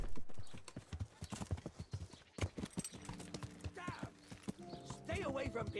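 Horse hooves clip-clop rapidly and close in Kingdom Come: Deliverance, a busy rhythmic trot with a brief whinny, while someone speaks over them and game music enters later.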